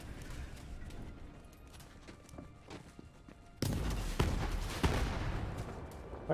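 A Creamer gun in Borderlands 3 fires with a sudden loud burst, followed by several sharp explosive cracks over a rumbling game backdrop.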